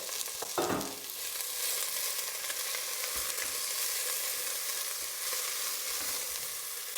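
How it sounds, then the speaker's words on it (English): Onions fry in hot oil in a pot for a Bolognese sauce, producing a steady, dense sizzle and crackle that holds at an even level throughout, with no talk. "Now we're just frying the onions until they get a bit clear"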